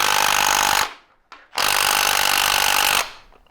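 A large Milwaukee power tool, likely an impact driver, works loose a nut in two loud, sustained bursts. A short blip separates them, and no one speaks.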